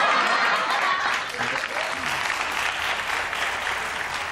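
A crowd claps in a steady burst of applause that carries on for a few seconds.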